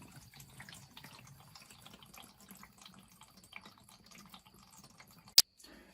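Water drains out of a ZENY portable mini twin-tub washing machine, a faint, steady trickle and splash running throughout, followed near the end by one sharp click.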